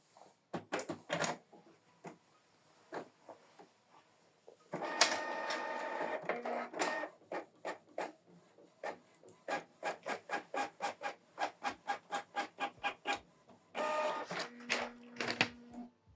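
A Canon Pixma MG3600 inkjet printer prints a test page: bursts of mechanical whirring and a fast series of clicking feed steps, fairly quiet and close.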